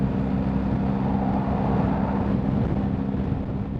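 A car approaches and passes on a quiet road on a Saturday morning, a steady broadband road and engine rumble that stays fairly even and moderately loud without a sharp peak.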